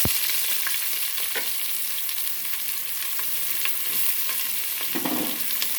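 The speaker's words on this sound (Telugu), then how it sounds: "హోల్ గరం మసాలా వేగాక ఉల్లిపాయలు వేసేసుకుందాం" Onions frying in hot oil with whole garam masala, a dense, loud sizzle with occasional stirring clinks and scrapes at close range, no talk.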